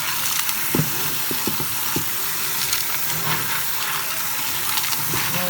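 Pinto beans being washed in water, with a steady rushing wash of running water and scattered splashy knocks as the beans are stirred and moved around, fairly close and continuous without any talking.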